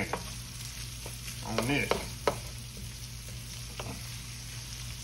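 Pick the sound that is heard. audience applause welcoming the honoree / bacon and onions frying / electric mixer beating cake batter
bacon and onions frying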